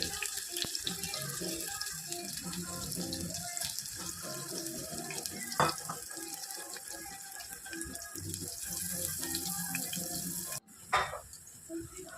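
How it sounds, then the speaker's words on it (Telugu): Water running and splashing as soaked meal maker soya chunks are drained in a kitchen for biryani, a steady tap-like flow lasting throughout with a brief clatter near the end. "ఇప్పుడు మిల్ మేకర్లో వాటర్ తీసేసుకొని వేసుకోవాలి."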